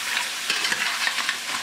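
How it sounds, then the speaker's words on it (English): Lobster shells sizzle in hot oil while being stirred, a steady close frying hiss broken by light scraping and clattering as the pieces are pushed around the pan. "So we got the shells in, we're going to stir it around, get the shells good and coated"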